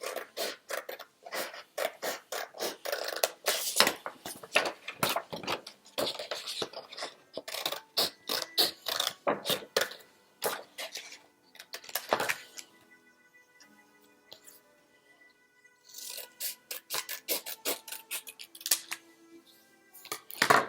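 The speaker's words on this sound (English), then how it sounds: "So I'm just going to cut a triangle." Scissors cut a triangle from double-sided paper for an egg-shaped gnome craft: close, crisp snips come in quick irregular bursts, pause briefly in the middle, then resume.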